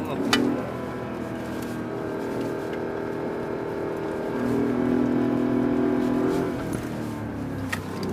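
Mercedes-Benz G63 AMG engine hums inside the cabin during driving with dual-clutch gear changes, rising twice in brief louder surges between steady stretches, with scattered clicks and some voices.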